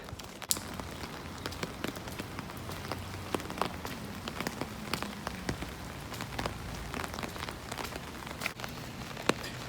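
Rain falls steadily on puddles and shrubs along an outdoor walk, a dense, even patter with scattered sharper drops close by and no voices.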